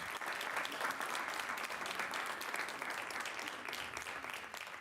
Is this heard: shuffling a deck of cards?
no